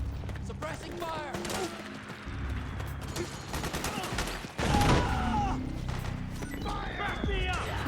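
Suppressing gunfire in Metal Gear Solid 4 rattles as dense, continuous bursts of automatic fire and impacts, with a heavier surge near the middle. Shouting voices are mixed in throughout the battle.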